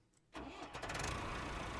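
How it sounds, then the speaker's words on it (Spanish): A tractor engine in the video game Ranch Simulator starts up, cranking briefly before settling into a steady, loud, close rumble that holds to the end. "Oye, anda súper rápido el tractor, ¿eh?"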